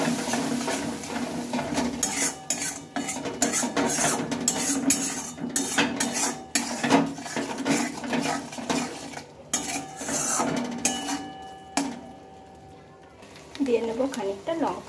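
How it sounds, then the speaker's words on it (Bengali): A spice masala of turmeric, salt and a little water is stirred and sautéed in a pan. A metal spoon scrapes and clatters against it in quick, busy strokes while a voice talks over it. "ভালোভাবে মিশিয়ে মশলাটা আমি কষিয়ে নেব।"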